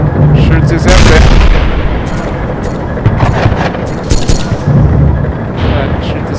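A tank's cannon fires at a zeppelin in the multiplayer game Gettysburg Armored Warfare: loud, close booming shots and explosions in repeated bursts over dense battle rumble.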